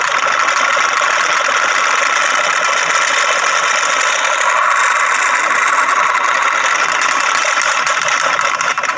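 A spinning magnet ring levitation device whirring at high speed, a loud, steady, unbroken mechanical drone with a buzzing rattle that lasts the whole stretch without pause.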